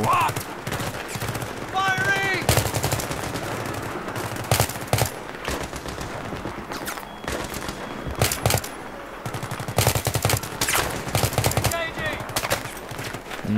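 Battlefield 3 combat with bursts of automatic gunfire and single shots cracking out in irregular clusters, loud and close throughout, with voices talking underneath.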